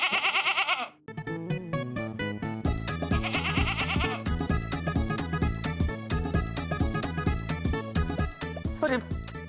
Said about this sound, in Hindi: अरे मेरी माँ बकरी,